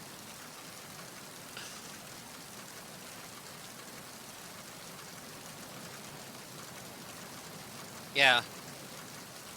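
Rain in the video game Metal Gear Solid 2 on the tanker, a steady soft hiss of falling rain throughout, with a brief voice near the end.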